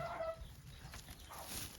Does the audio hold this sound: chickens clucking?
yes